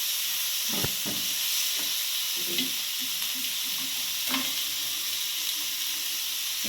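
A pan of sugar, chilli and curry leaves frying, a constant dense hiss of hot oil with occasional soft knocks and scraping stirs, fairly close and even in level.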